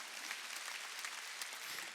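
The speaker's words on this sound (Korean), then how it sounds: "박수 치라 이게야." Congregation clapping at a Wednesday church worship service, a steady wash of many hands applauding at moderate level, fairly distant and continuous without talk.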